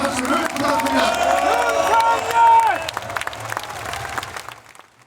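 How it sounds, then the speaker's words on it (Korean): An audience at a presidential event for small business owners bursts into loud, sustained applause with some cheering, swelling before fading away. "윤석열 대통령님께 더 큰 박수를 부탁드립니다."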